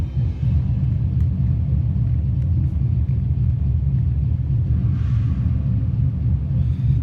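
A Craftmade Cameo ceiling fan winding down, a steady low rumbling whir that holds evenly close by with no voices.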